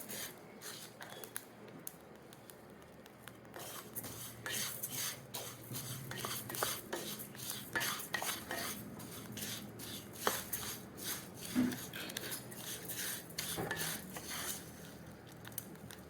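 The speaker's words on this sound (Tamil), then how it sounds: "இந்த அரிசி பருப்பு ரெண்டையுமே ஒன்றால் போட்டு நல்லா வறுத்துருங்க" Rice and lentils roast in a pan for rice uppuma while a spoon stirs and scrapes continuously, with soft scratchy rustling and occasional clicks of metal on the pan, quiet and steady.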